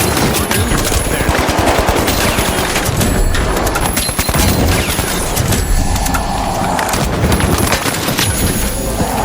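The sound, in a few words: gunfire in video game The Finals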